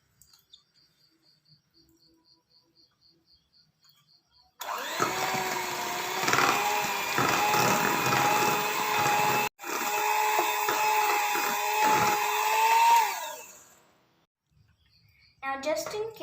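An electric mixer whirs loudly through cupcake batter with vanilla extract in a home kitchen, starting abruptly after a quiet pause, running steadily with a rising whine near the end, then cutting off.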